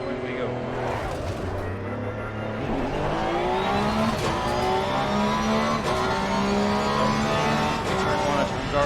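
Porsche 911 GT3 R race car in Assetto Corsa Competizione roaring steadily under load, its engine note climbing through gears with sharp shift breaks, loud and close throughout, with a voice talking over it.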